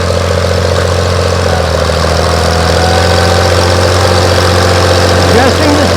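An antique John Deere tractor engine runs at an antique tractor plow day in northern Maine, a loud, steady, low throbbing drone with a faint pulsing beat and a slight change in pitch near the end.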